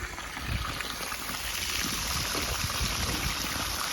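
Water pours steadily from a solar-powered pump driven by four 475W Jinko panels and a 1500W pump, a continuous close splashing trickle with no voices.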